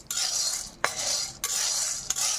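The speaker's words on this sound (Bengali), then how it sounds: "খুন্তির সাহায্যে এইভাবে আমি অনবরত নাড়তে থাকবো" A metal spatula stirs kabuli chickpeas as they dry-roast in an iron kadai, giving three close, distinct scraping strokes with a steady gritty rattle between them.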